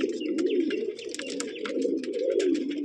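Breeding pigeons in a loft coo steadily and close by, a dense, continuous rolling murmur with a few sharper chirps scattered over it throughout.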